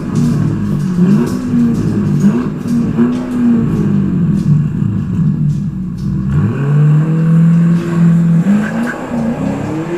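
A 2020 Audi RS7-R ABT, tuned to 740 hp, revs loud and close, its engine note climbing and falling in repeated surges before a stronger sustained rise toward the end.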